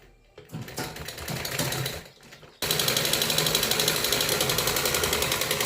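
A sewing machine stitches a net kurti, starting with a few short bursts, then settling into a loud, steady run of rapid, even stitching with no talk.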